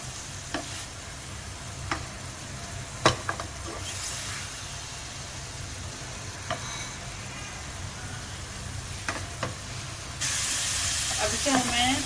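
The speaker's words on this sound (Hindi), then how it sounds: "अदरक लहसुन का हमने पेस्ट डाल के इसको थोड़ा सा और भूनना है" Beef sizzles steadily in a pan with ginger-garlic paste, with occasional sharp clinks of a stirring utensil and a louder, brighter hiss rising toward the end.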